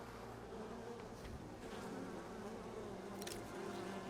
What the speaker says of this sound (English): You're gonna find nothing but more bees.